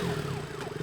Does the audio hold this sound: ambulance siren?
yes